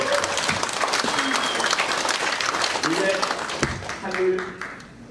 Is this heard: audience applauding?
yes